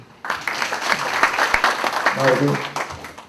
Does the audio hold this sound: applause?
yes